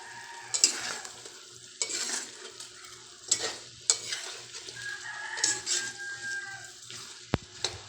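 Chicken liver adobo stirred in a frying pan, with repeated close scraping strokes over a gentle sizzle, plus a faint rooster crowing in the background.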